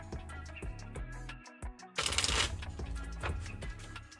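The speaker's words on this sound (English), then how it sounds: "We're going to do a quick shuffle because I don't know how much time you got." Cards are shuffled up close, a run of quick riffling taps and then a louder, dense burst of flicking as the deck is bridged.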